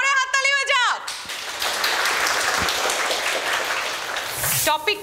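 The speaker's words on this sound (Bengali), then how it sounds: "ডায়মন্ড হারবার মহিলা বিশ্ববিদ্যালয়ের জন্য জোরে হাততালি হয়ে যাক।" At a college talk-show event, an audience claps for Diamond Harbour Women's University, a steady wash of applause lasting several seconds between a host's speech at the start and end.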